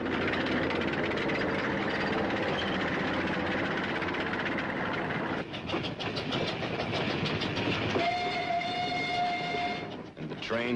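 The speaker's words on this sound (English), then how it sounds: "Trains loaded with war wearies going back for salvage." Military supply trains hauling war-weary equipment back for salvage in wartime Korea rumble steadily with clanking wagons, then a long horn blast sounds near the end, all under continuous narration.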